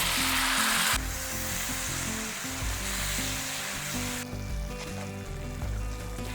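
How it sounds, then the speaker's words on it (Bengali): Tomato paste fries in oil with a loud, continuous sizzling hiss over low rumbling pan noise, easing slightly in intensity partway through, close and alone without speech. "এরপরে আবার একটু কষিয়ে নিচ্ছি যাতে টমেটোটা বেশ দানা দানা হয়ে যায়।"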